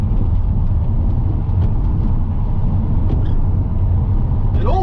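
Holden VY V6 Storm car driving along, a steady loud low engine and road rumble filling the clip continuously, with a brief rising whine near the end.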